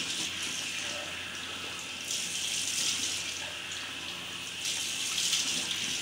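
Lukewarm tap water runs steadily into a sink for rinsing the face, a constant close hiss with brief surges where the flow is interrupted by hands, no talking.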